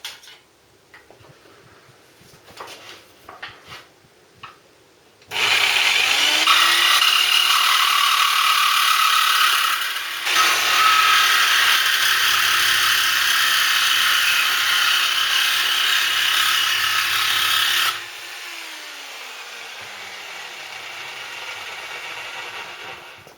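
Jigsaw cutting through a motorcycle spray guard on a Bandit project, a loud close rasping buzz that starts after some quiet handling noise, dips briefly mid-cut, then carries on and drops to a lighter running whir.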